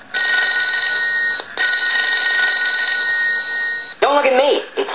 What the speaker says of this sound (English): I want to go ahead and ring the telephone